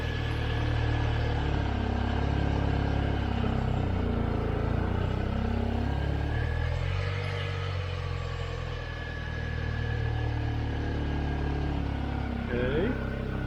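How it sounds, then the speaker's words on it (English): A Passat wagon's engine idles roughly and dips toward stalling as the clutch is let out. The low rumble sags for a moment partway through before steadying again. "just take your foot off the clutch until the engine is about to die"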